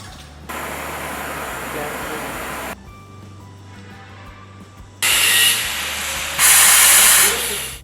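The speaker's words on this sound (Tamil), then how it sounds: "அடுத்து அசிட்டிலினின் கட்டுப்பாட்டு வால்வை 1/4க்கு திறந்து ப்ளோ பைப்பை ஆன் செய்து" An oxy-acetylene blowpipe is opened and lit with a spark lighter for gas cutting. Loud, close bursts of hissing gas start and stop in stages, growing louder and brighter toward the end.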